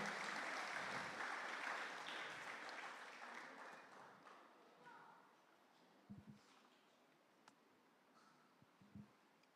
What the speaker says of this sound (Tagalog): Bigyan pa po natin isang papuring palakpak ang atin pong Panginoon.